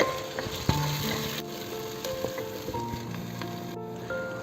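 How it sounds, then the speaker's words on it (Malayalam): Tomato puree is stirred into fish biryani masala in a pan, giving a steady sizzle with soft scraping and stirring clatter throughout, close up with no talk. "രണ്ട് തക്കാളി പ്യൂരിയാക്കി അത് ഇതിലേക്ക് ചേർക്കാം. ഇതൊന്ന് മിക്സ് ചെയ്യാം."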